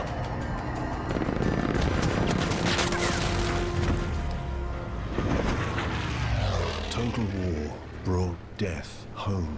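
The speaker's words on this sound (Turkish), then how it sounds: "Geri dönüyor uçak." A warplane roars overhead amid heavy gunfire in the World War II shooter game Battlefield V, loud and dense, engine drone and rapid shots blending, with a voice speaking over the end.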